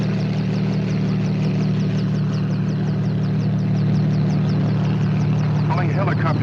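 A helicopter engine drones loudly and steadily throughout, a constant low hum with a rhythmic rotor chop, with a brief muffled voice near the end.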